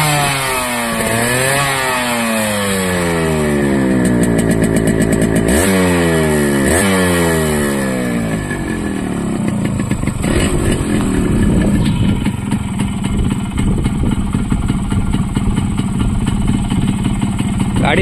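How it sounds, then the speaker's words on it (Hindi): A Yamaha RX100 motorcycle's exhaust note is loud and close. The engine is revved up and down several times in rising and falling sweeps, then settles into a steady, rattling run. "सो तुमकां गाडयेचो सावंड दाखयता. Exhaust note"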